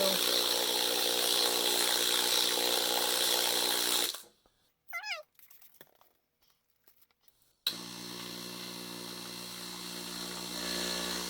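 A DP Mini-Sonic MT-4 tumbler loaded with grit runs with a steady, close grinding hum. It cuts out for a few seconds of near quiet, then starts again and keeps churning evenly.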